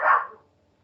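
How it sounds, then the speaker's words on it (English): A single short dog bark sounds fairly close, clear and then quickly fading into quiet. "Sorry, that's my dog."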